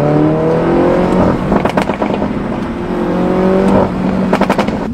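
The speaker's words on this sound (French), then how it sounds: "Il y a un certain régime où ça pète bien" A MINI JCW 231 car engine revs hard and holds, with bursts of crackling exhaust pops breaking through the drone, loud and close.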